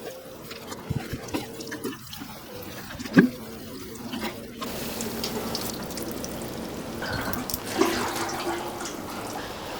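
Water runs steadily as potted anthurium plants are showered after repotting, a continuous splashing flow with a few louder bursts and knocks, close by and without talk.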